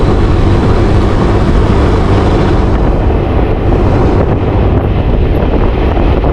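Steady, loud wind roaring across the microphone, a broad continuous rush with no gaps and no voices.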